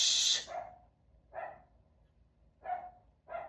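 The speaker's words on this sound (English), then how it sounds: "lost my train of thought because of these little dogs" Small dogs bark indoors in a loose series of four sharp yips spaced a second or so apart, fairly quiet, after a brief burst of hissing noise at the start; no talking.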